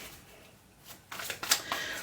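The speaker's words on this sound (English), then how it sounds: "I'm going to pull out some clarity cards." Tarot clarity cards drawn and slid from a deck, giving a brief soft shuffle and a few quick papery swishes, close and fairly quiet, with no talking.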